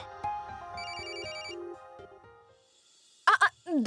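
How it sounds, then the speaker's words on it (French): A phone rings with a bright electronic ringtone melody, loud and close, followed by short sharp tones; no one speaks over it. "Quelqu'un essaie de nous appeler tout le temps."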